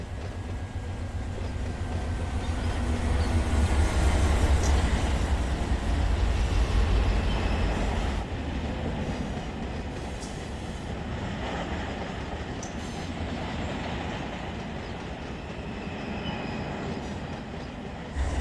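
A Union Pacific freight train rolls past in the Run 8 train simulator, a long continuous rumble of wheels and cars that is loudest early on and then holds at a slightly lower level to the end.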